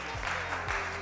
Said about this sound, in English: a huge round of applause for Mohamad Ali Mali